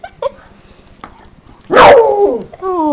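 A beagle lets out a short yip, then a loud, drawn-out bark that slides into a whining howl, close by and otherwise quiet with faint background ticks.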